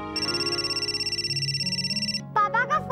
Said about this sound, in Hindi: पापा का फोन आया, पापा का फोन आया।